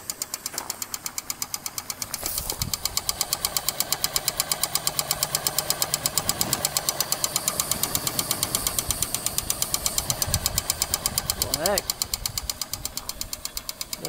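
A large homemade Stirling engine runs steadily with a fast, even mechanical knocking beat, fairly close and loud, while someone talks over it at times.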